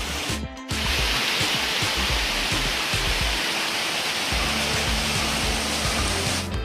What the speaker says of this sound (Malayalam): വെള്ളച്ചാട്ടങ്ങളും ഇതിൽ കൂടെ ഒരു തോടൊക്കെ ഒഴുകുന്നുണ്ട്.